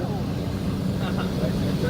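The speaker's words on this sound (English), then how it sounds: "that's the jet wash, and that's to get the pilot's attention" Jet wash from a fighter jet sweeping past a plane during a no-fly zone intercept simulation, a dense, steady roaring rush of air heard up close and loud throughout.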